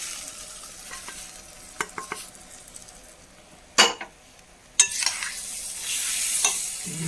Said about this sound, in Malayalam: നമുക്കിത് അങ്ങനെ തന്നെ നമ്മുടെ ഈ സവോളക്കൂട്ടിലേക്ക് ഒഴിച്ചു കൊടുക്കാം